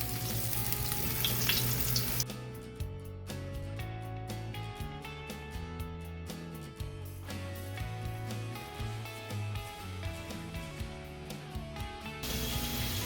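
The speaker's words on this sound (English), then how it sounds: "Chicken's been frying for a few minutes" Steady sizzling and crackling of chicken pieces frying skin side down in hot oil, with occasional metallic clinks and scrapes, close up and without talk.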